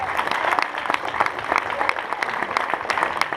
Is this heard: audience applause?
yes